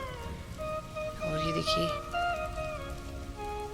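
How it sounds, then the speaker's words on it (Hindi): Heavy rain pours steadily in a dark hill-village afternoon during a thunderstorm, a continuous close hiss of drops on surfaces, while a person talks over it. "काफ़ी बारिश होगी, बहुत तेज़ बारिश हो गई है"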